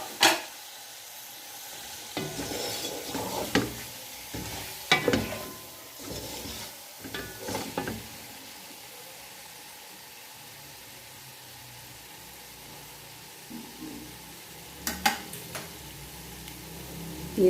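Meat for chicken yakhni pulao goes into a pot and cooks with a low, steady sizzle, while several scraping, knocking stirs cluster in the first half and again near the end, with quieter frying between them.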